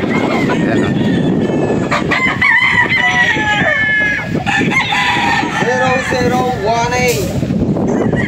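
Roosters crow repeatedly and fowl cluck on a gamecock farm with battle stags in Padre Garcia, Batangas, loud and close, with overlapping calls and people talking throughout.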